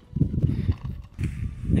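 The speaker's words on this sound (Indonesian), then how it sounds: "Naik kuda kayak koboi." Horse walking on a trail up Mount Ararat in Turkey: several dull, close hoof thuds in a steady plodding rhythm, with wind and rustling in the background.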